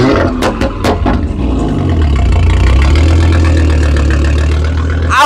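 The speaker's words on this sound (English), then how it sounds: "Audi RS3 engine, guys." Audi RS3 engine revving hard at a car campout, a few sharp throttle blips giving way to a sustained loud roar that holds steady, close by and with no talk over it.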